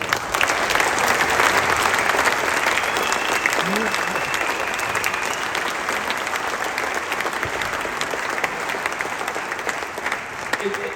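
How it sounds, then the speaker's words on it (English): Sustained applause from a crowd at a town hall event in Middlesbrough, thick continuous clapping filling the whole stretch, with some voices audible under it. "everybody really should give a big round of applause to his amazing, amazing wife, Deborah."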